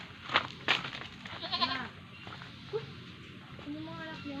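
Goats bleating at feeding time on a small farm, several quavering calls near and loud early on, then fainter scattered bleats, with people talking nearby.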